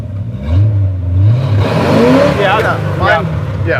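A Jeep BJ5 being driven in four-wheel drive, its engine droning low then rising as it revs, with a rattling drivetrain and people talking over it inside the cab.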